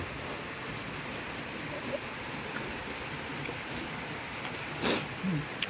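Rain falling as a steady, fine hiss of drops on surfaces, moderately loud and continuous, with a few brief faint knocks and a soft voice near the end.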